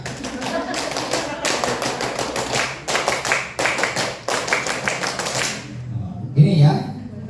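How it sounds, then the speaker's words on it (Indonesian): A group performs the rhythmic scout clap twice in a row, bursts of synchronized hand claps in patterned sets with short pauses between, loud and close, ending with a brief voice. "2 kali tepuk pramuka."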